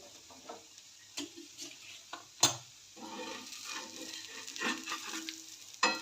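Onion-greens thalipeeth roasting on a hot pan, with a soft steady sizzle broken by several sharp clatters and scrapes as the flatbread is loosened and flipped, fairly quiet and close.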